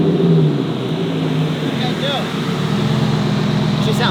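A Ford F-150 truck, converted from 2WD to 4x4, holds a loud, steady engine drone at a track, with the pitch shifting slightly and voices talking faintly beneath the engine noise.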